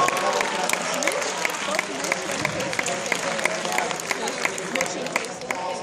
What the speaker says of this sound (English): Give them all a nice big round of applause.